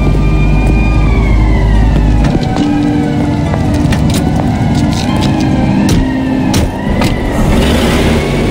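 Police car sirens wail over a steady rumble of car engine and road noise, the rising and falling tones sustained and loud throughout, with a few sharp transient knocks.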